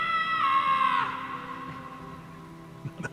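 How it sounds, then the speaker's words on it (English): A character cries out in pain in the Guardians of the Galaxy video game, a strained, tonal scream that holds for about a second, then breaks off into quieter rumbling and a few soft knocks. "Scream if you need to dull the pain."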